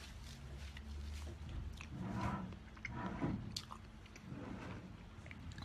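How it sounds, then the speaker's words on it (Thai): Someone eats rice porridge, jok, with soft wet chewing and squishy mouth sounds in an irregular rhythm, close and quiet against low background noise. "กินโจ๊กอยู่ครับผม"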